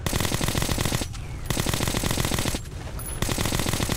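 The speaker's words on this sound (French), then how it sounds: "Je tire tout autour." Rapid automatic gunfire in the video game Metro Last Light, loud sustained bursts with two brief pauses, firing in all directions at close range with no talk.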